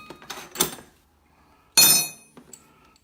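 Big metal spanners for an AKM6012 CNC machine are lifted from the box and clink against hard parts. There are a few sharp, bright metallic knocks, one much louder than the rest, with small clatters between them and quiet pauses.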